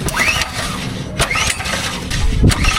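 An old truck engine being cranked to start after its cab took on water, with repeated starter whirring bursts separated by short pauses, close and fairly loud, no voices.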